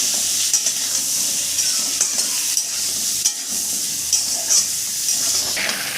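Pointed gourd pieces, seasoned with salt and turmeric, fry in a pan with a loud, continuous hissing sizzle and occasional faint taps of a stirring spoon. No one speaks.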